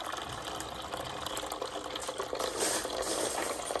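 Water poured steadily into an Arctic Air Chill Zone XL cooler, a faint continuous splashing trickle that swells slightly toward the end.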